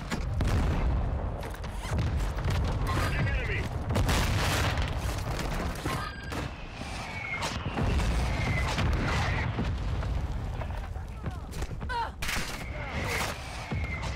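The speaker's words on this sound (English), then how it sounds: "Mortar strike inbound." Repeated booming explosions from a mortar strike in Warzone 2, heavy low rumbles landing one after another amid game noise, loud and continuous with brief whistling tones between blasts.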